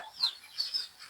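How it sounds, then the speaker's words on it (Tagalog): Short, soft clucks from chickens, a few quick calls spread over a second, fairly faint and slightly distant. "pakita mo yung mga manok"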